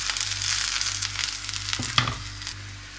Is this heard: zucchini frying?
yes